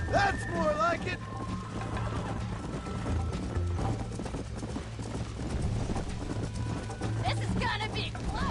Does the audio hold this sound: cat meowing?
no